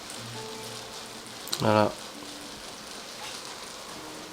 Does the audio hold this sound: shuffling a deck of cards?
no